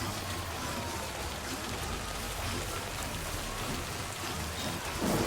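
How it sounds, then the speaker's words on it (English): Steady, close rain falls without a break in the video game Death Stranding 2, a dense even hiss with no voices over it. "currently it's just rain"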